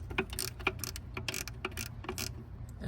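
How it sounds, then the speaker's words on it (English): A small swivel ratchet clicks rapidly and unevenly, loosening bolts on a cammed LS-powered Chevrolet Tahoe, with close, sharp metallic ticks in quick bursts and no talking. "we're gonna use this little swivel ratchet, wrench, whatever you want to call it"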